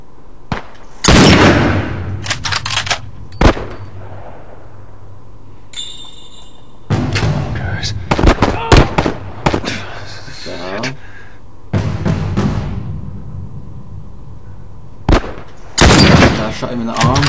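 Gunshots in The Last of Us, several sharp bursts scattered through the stretch with gaps between them, heard under a player talking over gameplay.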